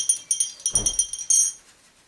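Drinking glasses clink together in a quick series of bright, close taps, broken midway by a short low thump and ending in a longer ringing chime that fades out.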